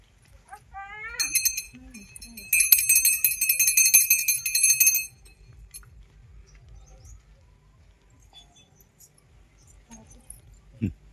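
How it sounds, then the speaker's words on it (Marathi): A small metal puja bell rings at a home worship ritual, a bright rapid jingling in two short bursts near the start, fairly clear, followed by quiet background with faint talk. "घंटी कुठे रे वेदांत?"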